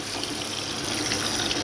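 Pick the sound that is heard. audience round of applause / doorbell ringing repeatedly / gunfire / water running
water running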